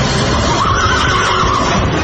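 A horse whinnies in a Hindi horror drama set near a forest town, a loud drawn-out neigh over a dense, noisy background with no voices.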